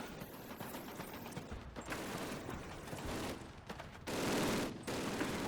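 Sustained machine-gun bursts from an MG34 in Call of Duty's Reichstag assault in Berlin, dense rapid fire with scattered gunshots, steady and loud throughout, with a heavier burst near the end.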